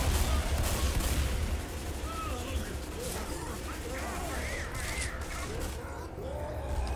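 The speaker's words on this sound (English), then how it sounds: "Stop shooting me!" Rapid gunfire from teammates in the zombie shooter Left 4 Dead 2 crackles continuously with loud, dense bursts, strongest at the start, mixed with in-game effects and faint voices.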